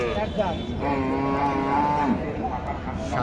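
A cow lows in a long, drawn-out moo at a busy traditional cattle market in Naogaon, Bangladesh, loud and close over a low background murmur of the crowd.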